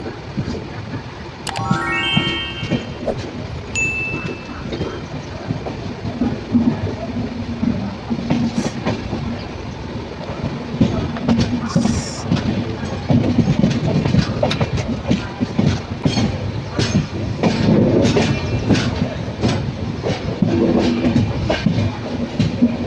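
A Konkan Railway train rumbles steadily along the rails at Ratnagiri station in the monsoon, with rhythmic clatter and a few brief high squeals and tones, loud and continuous throughout.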